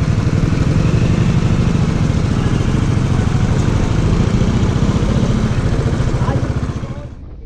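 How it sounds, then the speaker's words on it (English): Royal Enfield Interceptor 650 motorcycle engine running on a single-lane road, a steady loud low rumble throughout that fades slightly at the end, with no speech. "So guys can see that's the new Interceptor 650."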